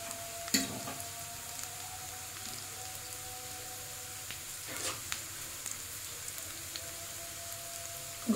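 Onions frying in oil until golden brown while cabbage manchurian is being cooked, giving a steady soft sizzle throughout with a few louder crackles and clinks of stirring, no voices.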